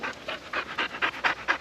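A dog pants hard and fast right up close after a climb on a misty Lake District wild camp, each breathy huff coming about four times a second in an even, loud rhythm with no talking.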